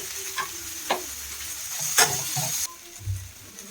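Chicken gizzard and liver fry in a pan, sizzling close up while a spoon stirs and scrapes in several short strokes, and a hiss cuts off near the end.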